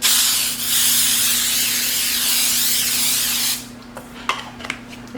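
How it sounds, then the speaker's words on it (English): Baking spray hisses onto a pan in one long continuous close burst lasting a few seconds, followed by a few light clicks and taps as the can is set down. "I'm just going to spray my pan with my baking spray"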